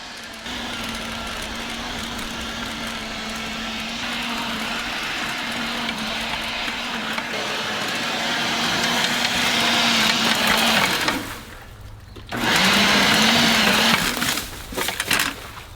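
An Eveage electric garden tiller runs with a steady motor whine and churning blade noise, rising slightly in strength, then briefly cutting out near the end before starting up again.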